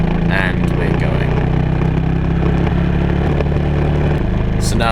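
A race car engine drones loudly and steadily as it pulls onto the track for a session, a constant close onboard roar that drops in pitch near the end.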